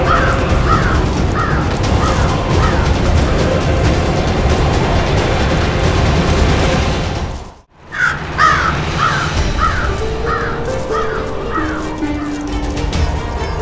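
A crow caws repeatedly in two runs of harsh calls separated by a brief drop to near silence, loud over a busy background in a Hindi family TV drama.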